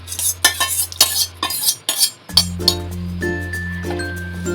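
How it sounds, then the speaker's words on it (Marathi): Grated onion, salt and cooked thin rice being mixed in a metal bowl, with close scraping and clinking strokes of a spoon, then a steady ringing metallic hum under the later stirring. "आता आपण हा मिक्स करून घेऊया।"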